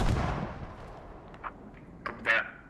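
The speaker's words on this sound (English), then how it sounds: "Mortars landed about 60 meters short." Mortar shells landing in the military shooter Squad, one heavy rolling boom fading out, then a few sharper, fainter distant impacts and pops.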